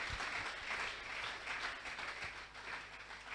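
A church congregation applauding during a Sunday worship service, a steady dense wash of clapping that holds evenly for several seconds without pause.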